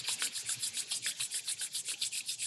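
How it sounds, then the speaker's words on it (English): Palms rub together briskly in a steady back-and-forth rhythm, a close, continuous swishing friction with about a dozen regular strokes and no talking, during a guided breathing and relaxation exercise. "rub your palms"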